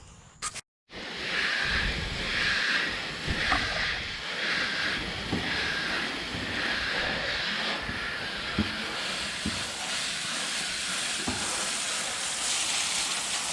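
Coil cleaner sprayed onto a central air conditioner condenser, a steady pressurized hiss running almost throughout after a brief click at the start, close and moderately loud.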